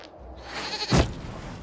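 A goat bleats once in the video game Dragon Age Inquisition, a short nasal cry rising out of low ambient game noise and fading quickly.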